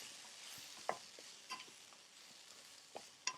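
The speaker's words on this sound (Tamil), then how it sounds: "இப்போ இதையும் நல்லா சேர்த்து ஃப்ரை பண்ணிடலாம்." Mixed vegetables with onions and salt being stir-fried in a pan, giving a faint steady sizzle broken by occasional soft scraping and tapping of the stirring utensil.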